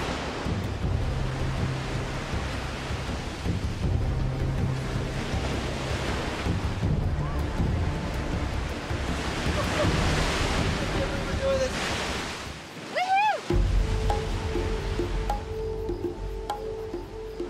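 Ocean waves and surf wash steadily at a Puerto Rico beach, broad and loud with strong wind buffeting the microphone throughout, a brief dropout near the end, and faint voices underneath.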